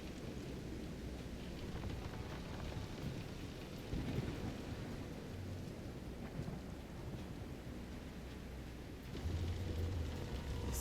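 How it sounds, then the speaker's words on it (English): Steady heavy rain with rolling thunder during a thunderstorm at sea aboard a pitching boat in Visions of Mana, a dense continuous roar that swells louder near the end. "This is some storm."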